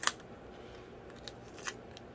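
Scissors snip through packing tape in a quiet indoor crafting setting, giving three short, crisp cuts: one at the start, then two more spaced about half a second apart near the end.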